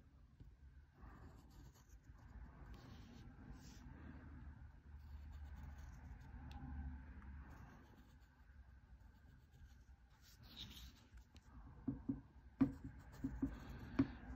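Pencil lead scratching across paper while tracing wheels with a circle template on a drawing of a CSX SD70MAC locomotive truck, a steady soft scratch with a few sharper taps near the end.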